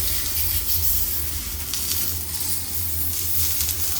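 A methi thepla flatbread sizzles loudly and steadily on a hot tava, a dense continuous frying hiss close by with no pauses and no talk.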